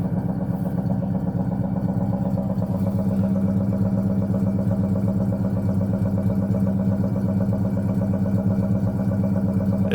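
A cold Ford Mach 1 engine runs after a cold start in near-freezing weather, giving a steady, close, low rumbling idle with a faint mechanical clatter that holds constant throughout.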